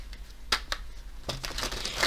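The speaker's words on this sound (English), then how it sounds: "So we're gonna start by shuffling." Tarot cards are shuffled close by in a few quick papery riffles and slides, with sharper bursts around half a second in and a denser run of shuffling toward the end.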